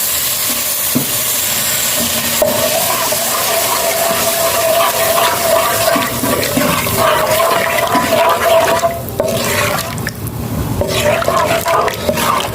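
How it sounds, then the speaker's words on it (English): A cup of coconut milk poured into a hot pot of curry tofu sets off a loud, continuous sizzle and watery bubbling, with a voice faintly present in the background. "I will be adding my coconut milk, and this is a cup of coconut milk."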